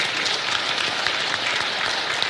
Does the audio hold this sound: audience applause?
yes